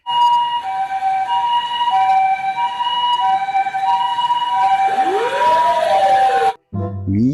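A toy ambulance siren wails loudly and continuously in a repeating two-tone pattern, then breaks off abruptly near the end before a brief different tone sounds.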